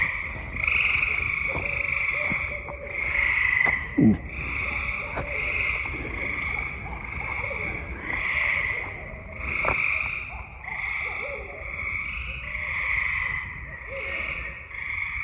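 Frogs croak loudly in a dense, continuous chorus at the Erie National Wildlife Refuge, with overlapping calls pulsing steadily throughout and a sharper croak standing out near the middle.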